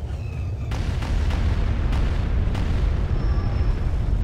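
Explosions rumble in a Star Wars strategy video game, with a heavy, continuous low roar and several sharp blasts cracking through it at intervals, loud and without talk.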